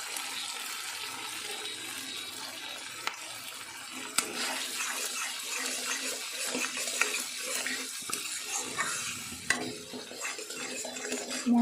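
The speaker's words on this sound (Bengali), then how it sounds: "মশলা ভাজার সময় লো টু মিডিয়াম আছে রাখবেন।" Spices with salt and turmeric fry in a pan, giving a soft, continuous sizzle with occasional faint clicks and scrapes. The sound is quiet and close, with no one talking.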